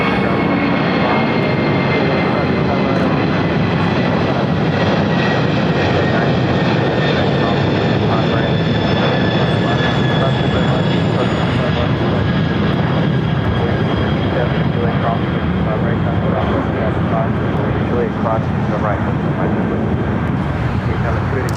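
An Antonov AN-124 cargo aircraft takes off at LAX with a loud, steady, broadband jet roar that keeps up without a break, while a voice talks over it.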